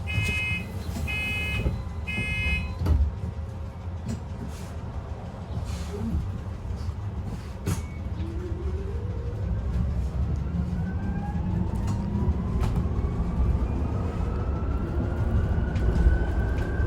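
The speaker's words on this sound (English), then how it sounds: "It's good to know that BYD kept the traditional BD11 motor sound." A second-generation BYD BD11 electric bus motor whines up in a rising tone as the bus pulls away, over a steady low rumble, with a few beeps early on.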